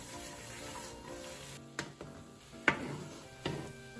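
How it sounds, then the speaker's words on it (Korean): Mushrooms stir-fry in oil in a pan, giving a soft, low sizzle punctuated by a few distinct taps and clicks from a utensil against the pan. "버섯이 노릇노릇해질 때까지 잘 볶아줍니다"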